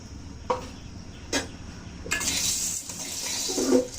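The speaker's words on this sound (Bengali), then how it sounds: "কড়াই সুন্দর গরম হয়ে গেছে, এখন ডালগুলো দিয়ে" Chickpea lentils are tipped into a hot wok with a couple of metallic clanks, followed by a rising, rushing sizzle that holds steady for the last two seconds, close and fairly loud.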